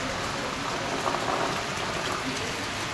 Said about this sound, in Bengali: খালি সারাদিন এরকম বৃষ্টি যাচ্ছে